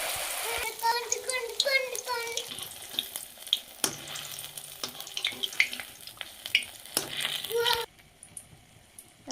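Coriander leaves in gram flour batter spooned into hot oil sizzle softly and steadily, with occasional utensil clicks, under someone talking.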